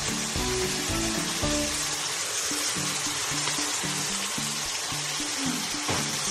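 Bitter gourd tipped into a hot pan of broth, giving a steady, close sizzle with a faint low clatter and bubbling underneath, no voices.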